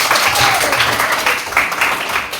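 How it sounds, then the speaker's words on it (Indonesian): A classroom of students clapping together, loud, dense applause lasting a couple of seconds without a break. "Oke, tepuk tangan semua."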